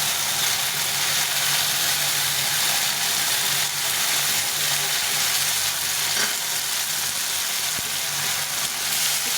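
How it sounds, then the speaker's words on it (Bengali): Ground paste of ginger, cumin, chili and coriander fries in a pan for a mung-dal fish-head dish, giving a steady, close, fairly loud sizzle with faint scraping stirs and no talking. "আদা জিরে লঙ্কা ধনে বেটে নিয়েছি আমি বাটা মশলা রান্না করি এটা ভালো করে ভেজে নিই"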